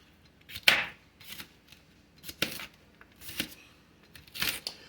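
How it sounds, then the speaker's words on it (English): A kitchen knife slicing cut rings into thin strips for a BBQ pizza topping: four short, crisp cuts spaced about a second apart, close and fairly quiet, with no talking. "you want to cut them this way for some more thin strips for some decorations on top of your pizza"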